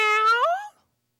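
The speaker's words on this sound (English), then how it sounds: "Meow. I look up and spot Queenie, the neighborhood cat." A single clear cat meow sits close and fairly loud, with a rising, drawn-out tone that fades away after about three-quarters of a second.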